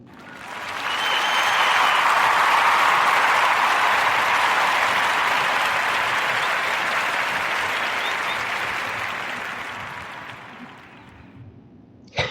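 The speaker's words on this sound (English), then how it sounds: "Do a round of applause for all the Black-owned businesses." An audience claps in a long, loud round of applause for Black-owned businesses, swelling quickly and holding steady before slowly fading out.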